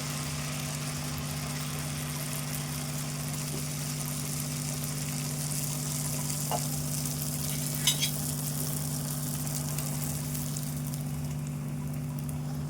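Gaarelu batter frying in hot oil, a constant fine bubbling sizzle under a steady low hum, with a couple of brief clicks and pops partway through and no voices.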